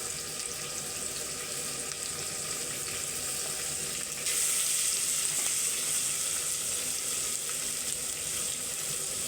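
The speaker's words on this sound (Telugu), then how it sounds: "సన్నగా తరుముకున్న ఆనియన్స్ వేసుకుందాం." Thinly sliced onions and green chillies frying in a pan, a steady, fairly loud sizzle that brightens partway through, with a faint clink or two and no voices.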